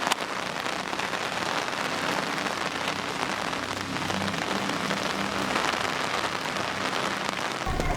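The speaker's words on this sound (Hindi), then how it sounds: "आज हो रही है बारिश और लगातार हो रही है" Steady rain falls continuously in Mandi Bahauddin, a dense, even hiss of drops on surfaces that keeps up without a break.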